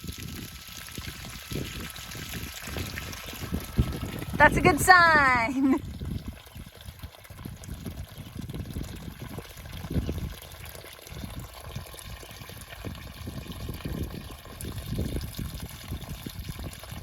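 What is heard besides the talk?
water pouring out of a drain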